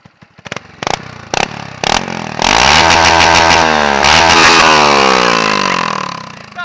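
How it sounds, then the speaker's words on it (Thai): A Honda 110i four-stroke motorcycle fitted with a two-stroke style exhaust gives several sharp blips, then a loud, buzzing high rev that climbs and holds before easing off, all close by. "เดี๋ยวจะรอบตัดให้ดูนะครับ"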